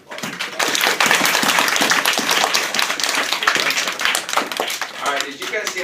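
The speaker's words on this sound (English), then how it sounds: "Now you're going to hear thunderous applause when you hear the applause." Elementary schoolchildren break into loud, thunderous applause during an author visit, a dense rush of close claps that swells quickly and holds, with some voices underneath.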